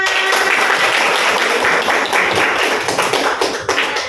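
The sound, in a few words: applause from a class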